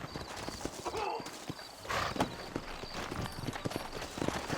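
Horse hooves clip-clop in a steady walking rhythm at moderate distance in the video game Red Dead Redemption, with a faint whinny and a voice speaking over them.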